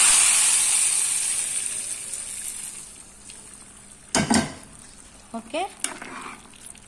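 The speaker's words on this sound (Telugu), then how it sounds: "పోపు అయితే రెడీ అయిపోయింది ఫ్రెండ్స్, ఇప్పుడు పప్పులో వేసుకుందాం।" A garlic, curry leaf and mustard seed tempering sizzles loudly as it hits spinach dal, the hiss fading over a few seconds, then a few clinks of stirring and a brief spoken word.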